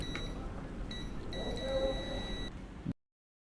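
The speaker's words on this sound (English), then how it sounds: "We use the buzzer to measure the sound at both ends." Continuity buzzer of a multimeter testing connections on an iPhone board sounds a thin, steady electronic tone for about two seconds, briefly stuttering at the start, over low hiss before cutting to silence.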